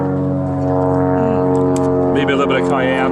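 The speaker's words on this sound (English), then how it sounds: "Sorry about the plane flying over" A steady, droning hum from an airplane flying overhead at a campsite fills the whole stretch while someone talks over it.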